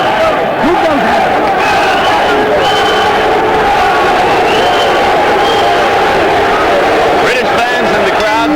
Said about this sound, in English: British fans in the crowd chanting for their man, Gary Jacobs